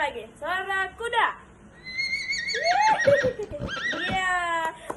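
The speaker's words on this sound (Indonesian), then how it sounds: "coba sekali lagi. Suara kuda." In a primary school lesson about transportation, a horse gives a series of loud, nearby whinnies: two short neighs followed by a longer, wavering call and a final strong whinny.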